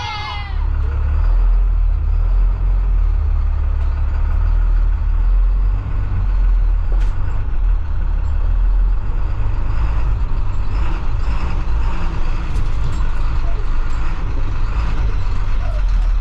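A bus RV's engine drones loud and close as the vehicle drives along, with a steady low rumble throughout and occasional higher rattles.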